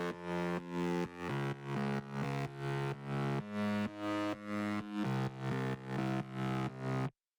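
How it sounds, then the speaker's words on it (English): A distorted, gritty processed synth mid-bass for progressive house plays a steady repeating pattern of punchy notes, ending abruptly. "Processed, the mid-bass sounds like this."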